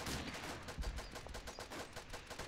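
Rapid machine gun fire in the World War I shooter Verdun rattles out as a steady string of sharp, evenly spaced shots, loud and continuous over a brief burst.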